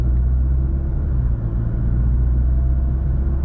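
A 2023 Volkswagen Golf R MK8 with a Stage 1 tune being driven. A loud, steady low engine rumble and road drone are heard from inside the cabin, with no talking.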